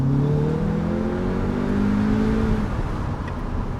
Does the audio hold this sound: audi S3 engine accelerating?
yes